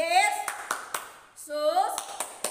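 Children at a Sunday-school style session clap a rhythmic chant, sharp hand claps spaced between sung and spoken chant lines from a woman leading, voices and claps alternating up close.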